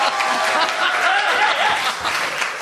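Audience applause during a French-language television game show, a dense steady wash of clapping filling the whole moment with some scattered chuckles mixed in.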